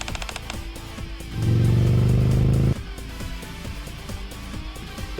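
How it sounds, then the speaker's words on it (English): A motorbike exhaust from the game Nikke roars in one loud, steady burst of a little over a second, rising above a busy game-music backdrop and then cutting off abruptly. "The bike's exhaust belches violently."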